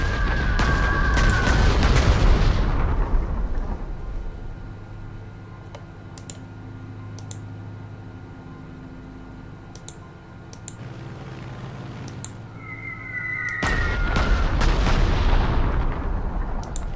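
Bombing explosions in the strategy war game Panzer Corps 2, set around Warsaw: loud booming blasts at the start and again near the end, with quieter clicking and low rumble between them.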